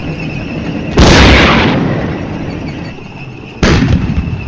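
Artillery fire in the wargame Flashpoint Campaigns: two loud, heavy booms, the first around one second in and decaying over a couple of seconds, the second hitting later, both over a steady low battlefield rumble.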